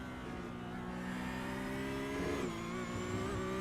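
A Porsche Cup race car on track at Okayama holds a steady, droning engine tone, then the pitch dips and wavers as the throttle comes off, heard from the cockpit with constant road and wind noise.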